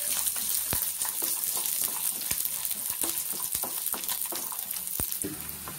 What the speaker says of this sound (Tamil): வெள்ளப்புடு கொஞ்சம் நல்லா வதங்கட்டும்.